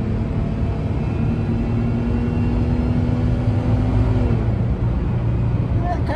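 Automatic Ford car accelerating hard on a highway on-ramp, a loud, continuous engine roar with a rising tone that shifts near the end, with traffic around and someone talking briefly.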